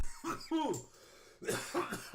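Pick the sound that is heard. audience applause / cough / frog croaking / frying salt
cough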